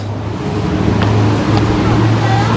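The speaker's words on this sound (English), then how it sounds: "it's a busy street that people use to get through the city, so traffic noise will be a bit noisy" Busy Sydney city street with steady traffic noise, a continuous loud rumble of cars passing close by with no distinct breaks.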